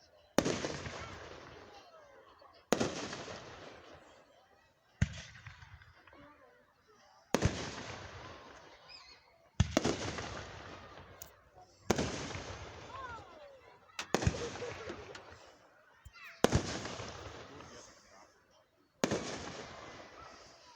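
Fireworks show at the Ohio City John Lambert Days: a steady series of about nine booming bursts heard from a distance, roughly every two to three seconds, each followed by crackling, with a few voices among the crowd.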